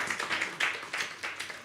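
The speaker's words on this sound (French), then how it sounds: "Let's clap for him." Church congregation clapping for Pastor Gillard after his teaching, a quick ragged burst of hand claps with soft peaks, fairly close and modest in level.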